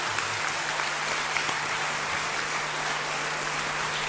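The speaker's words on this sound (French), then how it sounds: "Je voudrais donc qu'on les applaudisse très fort." A crowd at an official prize-giving ceremony applauds the parents of students, a steady, even wash of clapping heard from some distance, fairly quiet, over a faint electrical hum.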